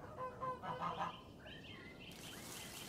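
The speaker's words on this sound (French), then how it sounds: "On entend des oies au loin." Geese honking far off by a gently flowing river on a cool morning, a few faint nasal calls over soft outdoor ambience.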